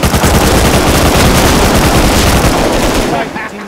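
Rapid automatic gunfire from a team-based video game rattles loudly and continuously in dense bursts, then cuts off abruptly near the end, with voices mixed in.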